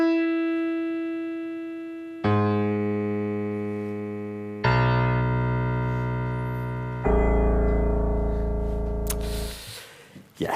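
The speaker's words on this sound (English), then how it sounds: "Each note is a data point. The higher the note, the higher the approval." Approval ratings rendered as a sequence of synthesized musical notes, four sustained electronic tones stepping in pitch, each entering with a fresh attack and decaying, ending in a brief noisy burst, with no talk.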